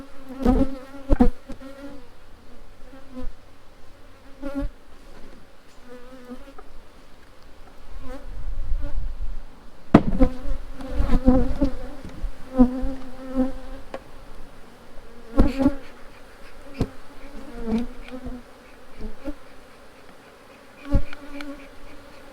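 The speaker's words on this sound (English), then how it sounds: "a lot of the other bees still remain on the side of the box" Honeybees buzz steadily around a hive box at a new apiary location, a dense insect drone with individual bees swelling louder as they pass close, with occasional knocks and thumps against the box.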